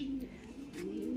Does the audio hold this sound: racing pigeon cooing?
yes